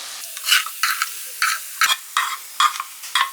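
Onions sizzle in oil while a spoon scrapes through them in short, regular strokes, a close, crisp rhythm of about two stirs per second, as they fry for Malabar chicken biryani.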